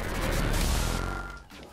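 Rapid, dense gunfire from the standard starting weapon in the shooter video game Holodrive fills the moment as a continuous loud volley, fading slightly toward the end.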